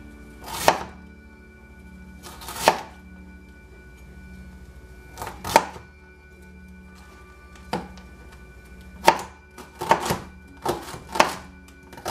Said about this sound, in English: you want to chop them as finely as possible